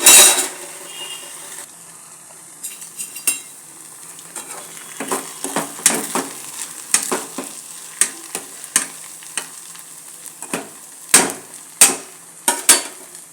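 Egg roasted upma frying in a pan gives off a constant sizzle, broken by sharp scrapes and clinks of stirring that come at irregular intervals, close and loud with nobody talking.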